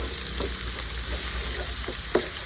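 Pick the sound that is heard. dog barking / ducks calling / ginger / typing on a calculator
ginger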